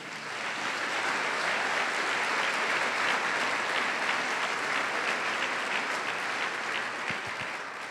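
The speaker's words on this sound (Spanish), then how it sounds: "¿Cuántos le dan un aplauso al Señor por eso?" A church congregation bursts into steady, dense applause at a Spanish-language sermon, the clapping sustained and full throughout before easing slightly near the end.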